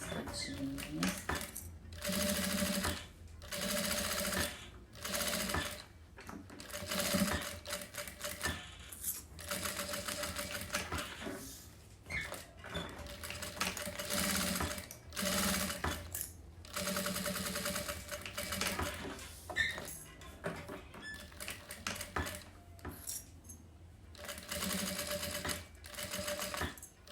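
A sewing machine backstitches the corners of a handmade wallet, its needle chattering in repeated bursts that stop and restart with short pauses between runs, loud and close.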